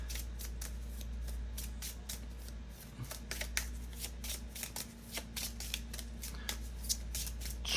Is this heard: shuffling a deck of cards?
yes